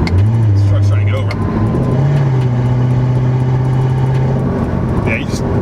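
A 2015 Corvette C7 with a Procharger supercharger drops a gear on the road and pulls, its engine note rising then holding a steady drone with faint passing traffic behind it.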